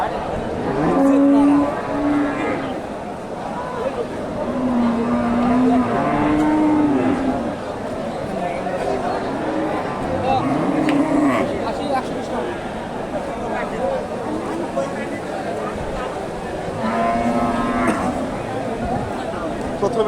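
Sahiwal dairy cows moo several times, low and drawn out, at a cattle market in Bogura. People talk steadily throughout, and there is background bustle.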